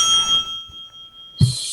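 A debate timer bell rings once, sharp and bright, near the end after a quiet pause, with a lingering tone heard through the stretch before.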